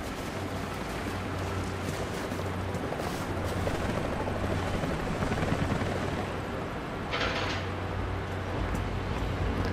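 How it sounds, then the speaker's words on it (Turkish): A helicopter in the video game Rise of the Tomb Raider produces a steady low rotor thrum under a dense, roaring wash of background game noise, continuous across the whole stretch with a brief brighter burst near the end. "Bu helikopter beni görürse kötü olacak."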